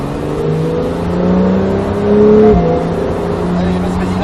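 A Porsche 911 Carrera S accelerates hard on the Nogaro circuit, its engine note climbing steadily in pitch and loudness before a brief dip and renewed pull, close and continuous, with a voice speaking over it.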